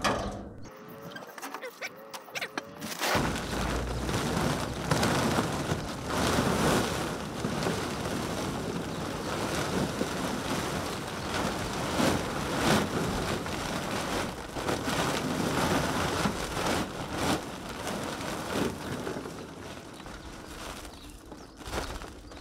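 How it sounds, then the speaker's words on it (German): A sack of 200 litres of Helix filter media is tipped into a water-filled filter chamber, giving a continuous dense rushing and pattering wash for about twenty seconds after a brief quieter start. "dann kippen wir mal die ersten 200 Liter Helix rein"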